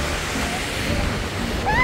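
A waterfall in Iceland roars up close as a loud, dense, continuous rushing wash of falling water with no pauses.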